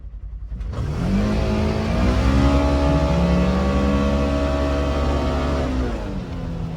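Polaris Xpedition off-road vehicles launch side by side in a drag race, engines surging from idle into a loud, sustained high-revving roar that holds steady before easing off.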